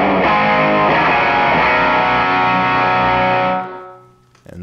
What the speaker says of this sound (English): So here's the distortion pedal and the amp by themselves.